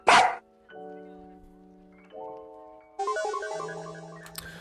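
A small dog gives a sharp close bark, then tonal whines and yips follow with musical or electronic tones, moderately loud and with no speech over it.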